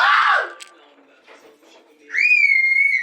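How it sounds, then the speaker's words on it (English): People scream and shriek indoors in a home, a loud burst at the start and a long, high, wavering scream near the end, with quieter murmuring between. "why is everybody screaming today randomly?"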